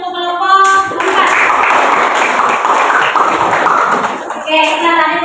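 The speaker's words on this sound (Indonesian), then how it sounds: "Aplaus dulu untuk kelompok 4." A classroom group claps for the fourth team's presentation, steady dense applause lasting about four seconds between bits of talk, with a voice mixed in near the end.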